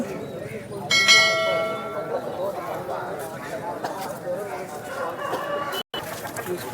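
Roosters at the Sunday rooster market in Vijayawada crow nearby, one bright call standing out early, over a busy background of clucking birds and people talking.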